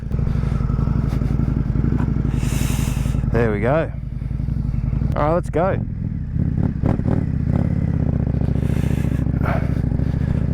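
A 2025 Indian Scout 101 motorcycle engine idles with a deep, throaty exhaust burble, blipped a couple of times into rising revs, while someone talks briefly over it.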